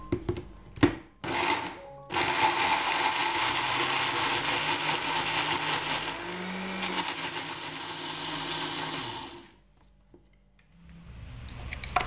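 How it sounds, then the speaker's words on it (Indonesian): An electric blender grinds spices with cooking oil for a Makassar-style fish dish, running loud and continuous for about eight seconds after a few knocks, then stopping abruptly into quiet. "Kemudian kita blender sampai halus."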